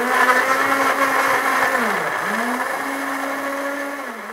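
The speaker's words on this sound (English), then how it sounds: "that's exactly now I'm moving over to blend the tomatoes" A kitchen blender whirs steadily while blending tomatoes, its motor pitch dipping briefly midway as the load shifts, then running on strongly and fairly close, with no talk.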